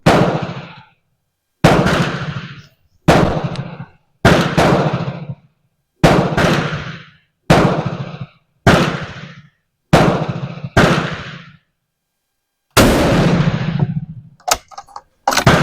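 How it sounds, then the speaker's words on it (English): 1903 Springfield rifle fired at a target, nine sharp loud reports spaced a second or two apart, each with a short ringing decay, followed by a longer blast and some clattering handling noise at close range. "now I'm going to shoot the top target since I adjusted the windage now"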